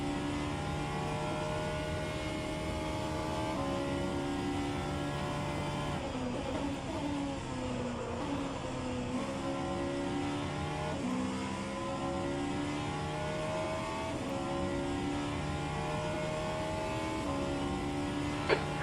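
Race car engines at Monza in rFactor 2, a loud continuous engine drone with rising and falling pitch as cars accelerate and shift, several engines overlapping throughout.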